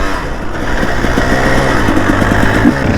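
A KTM 300 enduro motorcycle's two-stroke engine runs loud and close in a forest, holding a steady, rough, buzzing idle with slight fluctuations and no talking.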